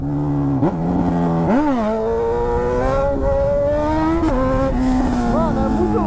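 A Honda CB1000 motorcycle revs hard during a clutch-pop wheelie, its loud engine note repeatedly rising and falling in sharp sweeps, close by, while people talk excitedly over it.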